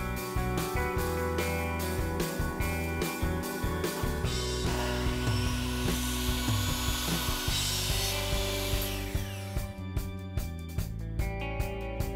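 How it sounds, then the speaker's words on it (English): Wood picture frame molding is worked in a shop, with repeated close scraping and rubbing strokes, a denser stretch of cutting noise in the middle and sharp knocks near the end. "I always just draw a little indication line that tells me which way I want to cut when I get to the miter saw"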